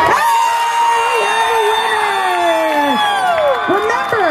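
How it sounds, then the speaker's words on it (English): A crowd at a pickle eating contest cheers loudly and continuously, with shrill, shouting voices and whoops rising and falling close by. "Is this your cheering section right in front of you, too?"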